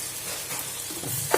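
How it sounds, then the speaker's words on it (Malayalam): Ginger and garlic paste sautés in a pan, a soft close sizzle with light stirring scrapes and a brief utensil clink at the end. "ഇത് രണ്ടും ഇട്ട് പിന്നെ നമുക്ക് നന്നായി ഒന്ന് വഴറ്റിയെടുക്കാം."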